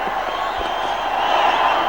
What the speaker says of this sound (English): playing in front of such a large crowd.